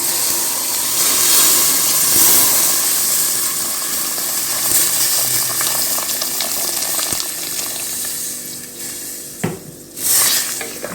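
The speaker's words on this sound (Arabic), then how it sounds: "هننزل عليها بمية سخنة." Hot water pours into a pot of cooking meat and okra for an Egyptian stew, a loud continuous hiss and rushing sizzle with faint clinks, ending in a brief splash near the end.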